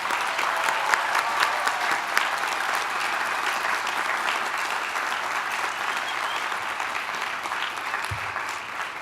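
At a graduate school commencement ceremony, a large crowd applauds the prize recipients with sustained, even clapping that stays fairly soft and distant throughout, with no speech on top.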